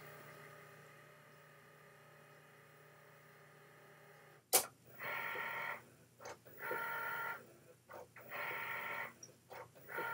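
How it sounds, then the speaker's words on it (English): A print-then-cut cutting machine scans printed registration marks, giving a sharp click and then repeated buzzing motor runs in short bursts with brief pauses, close and steady in a quiet room. "press the go button on the machine to begin"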